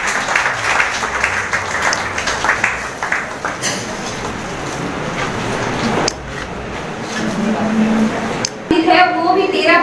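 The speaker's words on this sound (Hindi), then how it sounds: "सभी जोरदार तालियों के साथ" An indoor audience at a public function in Silchar's Hindi Bhavan bursts into loud, dense clapping that gradually thins, while a speaker's amplified voice carries over and after it.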